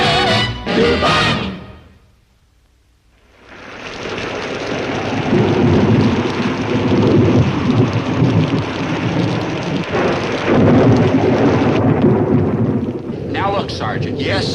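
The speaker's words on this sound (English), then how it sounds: "when the old lightning starts lightning, the old thunder starts thundering" A stormy night sets in with rumbling thunder and a steady downpour of rain that rises after a short pause and holds loud, with brief voices at the start and end.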